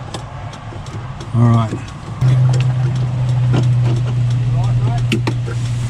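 A 6x6 ambulance engine runs with its throttle pedal locked, settling into a steady, loud, close idle drone after a brief rev, while someone speaks a word nearby.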